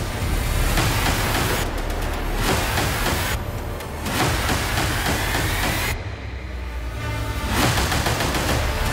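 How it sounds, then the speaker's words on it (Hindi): Continuous bombardment and missile fire in Ukraine roars as a dense, loud, unbroken barrage of rumbling blasts and rattling fire, with a few brief dips in intensity and no speech. "लगातार होती बमबारी और सीरियल मिसाइलों की जद में कब कौन आ जाए कहना मुश्किल है।"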